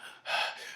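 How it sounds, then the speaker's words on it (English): One short, sharp intake of breath, like a heavy gasp, from a fighter in an animated Dragon Ball Super battle. It is close and fairly loud, heard alone without talk. "there's some heavy breathing there"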